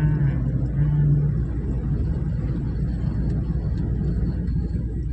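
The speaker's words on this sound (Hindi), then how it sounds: "बाइक आ रहा है भाई, बाइक।" A motorbike approaches from behind a car on a rural road, its engine a steady low rumble under the car's own road noise, with no clear rise or pass.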